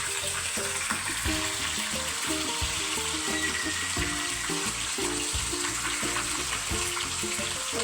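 Curry leaves and mustard seeds fry in hot oil, a continuous close crackling sizzle with rapid popping spatters, steady and fairly loud, without speech.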